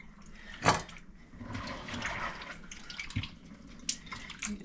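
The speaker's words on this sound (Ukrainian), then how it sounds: "Віджали, вода втекла" Water trickles and splashes from squeezed roach fish being moved into a saucepan in a kitchen, a close, uneven pouring with a sharper spatter early on and quieter dribbles after, no voices.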